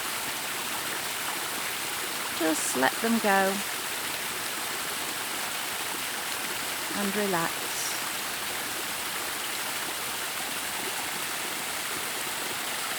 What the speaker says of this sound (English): Just let that waterfall wash any worries, any concerns away.